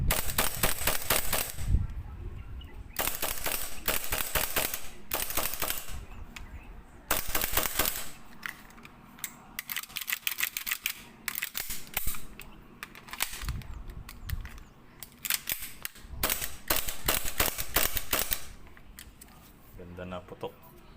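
A rebuilt WE Hi Capa Dragon airsoft pistol fires a string of sharp, close, snapping shots, some in quick bursts and some spaced apart, with someone talking between the shots.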